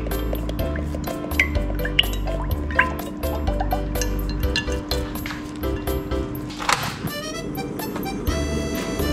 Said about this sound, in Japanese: 生クリームを入れ中火で温めます。